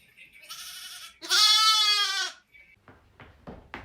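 Sheep bleats, two loud drawn-out harmonic cries close to the microphone, the second longer and stronger, followed by quieter scattered farmyard noises.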